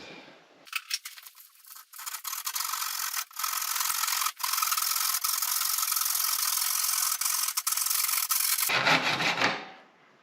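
Hand wood saw cutting through wood during a pocket door hardware installation, loud and close, with fast rasping strokes that run almost continuously for about eight seconds before stopping, and no talk.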